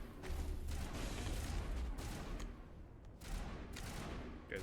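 Bursts of gunfire from a Mass Effect firefight, several loud volleys in quick succession with brief gaps, dense and close, with no talking over them.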